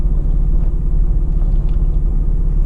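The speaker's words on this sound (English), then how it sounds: "we'll talk to you as we go down the road" An RV engine rumbles steadily while driving down a road, a loud, continuous low drone with road noise and no talking.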